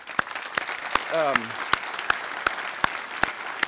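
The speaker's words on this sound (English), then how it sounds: "let's give them a big hand" Audience applause at an annual meeting and membership banquet, with evenly spaced, crisp claps repeating steadily and a voice briefly heard partway through.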